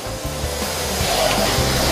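A vacuum cleaner runs steadily during household cleaning, a continuous loud broadband whoosh with a low droning hum that pulses slightly in level, heard alone without speech.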